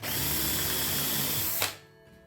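A power drill drives a screw into timber in one sustained close whirring run that rises slightly in pitch, then stops abruptly with a brief click and near quiet.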